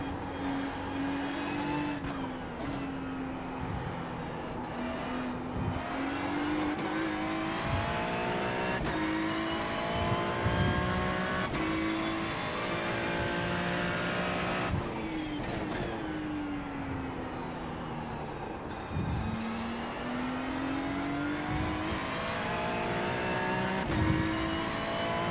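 GTP prototype race car engines roar continuously in a racing game on the Nürburgring Grand-Prix-Strecke, a multiclass GTP/GT3 field; loud, sustained engine drone shifts pitch through gear changes, with faster cars rushing past.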